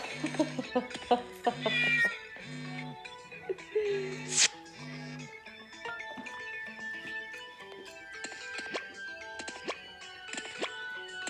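A pet cat meowing indoors, giving several short, close meows early on, then softer repeated calls and chirps, with some speech in the background.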